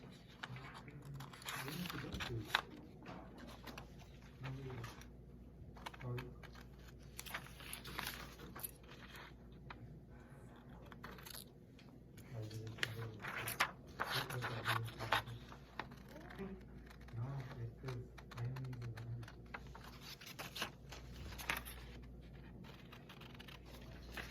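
Scissors snipping paper pieces for a craft sketch, soft irregular cuts and crinkling close by, with quiet handling rustle throughout.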